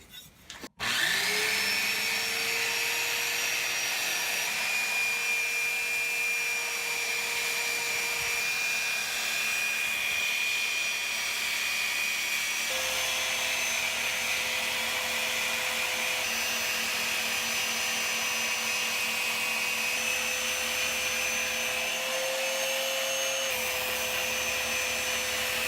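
A grinder cuts a bevel into a lawnmower blade being made into a big knife, giving a loud, steady, close whining drone that runs without a break, with the pitch shifting slightly as pressure changes.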